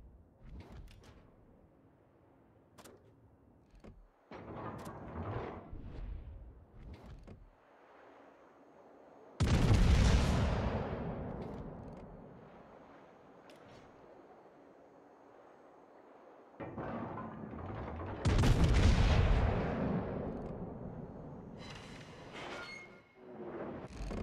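Naval artillery in World of Warships, from the USS Colorado battleship: heavy broadband gun blasts at about 9.5 and 18.5 seconds, each booming out with a long rumbling decay, amid scattered smaller thuds and clanks, with no talking.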